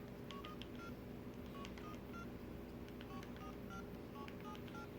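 Short electronic keypad beeps from a mobile phone, the same beeps as a Motorola W260G, tapped in irregular bursts of single tones over a low background hum.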